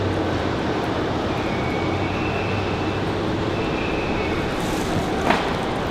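A JetBlue airliner at Raleigh-Durham International Airport on a snowy day, heard as a steady, moderately loud broadband engine roar and rumble with no speech.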